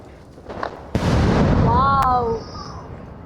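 A large 6-inch Diwali firecracker goes off with a sudden loud bang, then a roaring, crackling burst with rising whistle-like tones for about a second and a half before it fades. Background noise and voices are present throughout.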